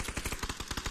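Rapid automatic gunfire in a shooter video game, a fast burst of about a dozen sharp, evenly spaced shots, loud and close with no pauses.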